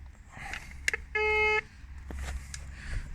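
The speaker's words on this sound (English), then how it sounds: "Now, got my trusty metal detector here." A metal detector sweeps over cracking in a historic building in Sussex, giving a short sharp electronic beep and then a sustained steady tone of about half a second, over a low background hum.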